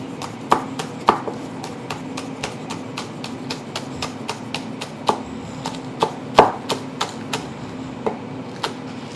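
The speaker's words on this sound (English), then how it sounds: "let's trim up my spring onions" A knife chops spring onions on a cutting board in a steady run of sharp, fairly close thuds, some strokes landing harder than others, over a low background hum.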